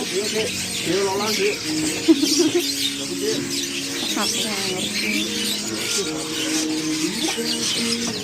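Many caged birds twitter and chirp together at Pramuka bird market, a dense overlapping chorus of calls running throughout under people talking nearby.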